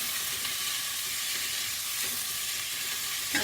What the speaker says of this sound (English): So here we are mixing the onion.